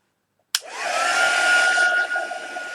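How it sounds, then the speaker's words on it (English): A heat gun drying acrylic paint on a painting starts with a sharp click, then blows a loud, steady, close whooshing roar that holds for a couple of seconds. "So heat gun."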